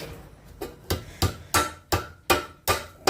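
Sharp metallic strikes on scrap bed springs as a screwdriver is worked to pry them loose: about eight loud, evenly spaced hits, close up, with no talking.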